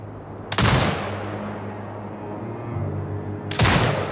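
Turret gunfire in the video game Sniper Ghost Warrior Contracts 2, with two loud, sharp bursts about three seconds apart over a steady low in-game hum, with no talk.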